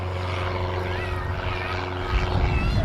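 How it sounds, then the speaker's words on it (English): A light propeller plane takes off at an air show by the sea, its engine drone steady and fairly loud throughout, swelling slightly near the end. "Another light plane taking off there."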